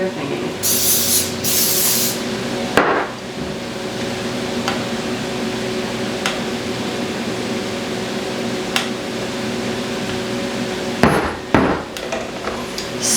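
An aerosol spray can gives two quick, loud hissing bursts close by, followed by quieter clatter and handling noises in a kitchen.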